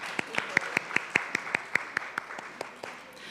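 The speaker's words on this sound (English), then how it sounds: "I wanted to give another round of applause to Shirin and Lisa" Audience at a symposium clapping in a steady round of applause for the speakers, sharp regular claps from a modest crowd in a room, fading out near the end.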